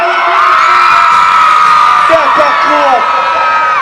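A large crowd at an outdoor jerk food festival concert screams and cheers continuously, with high whoops and shouts rising above a steady roar of voices.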